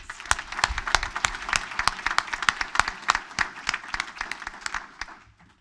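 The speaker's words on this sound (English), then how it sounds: "let's give one more round of applause" Sustained applause from a crowd at a student athlete commencement ceremony in 2023, dense clapping throughout that tapers slightly at the end, with no talking over it.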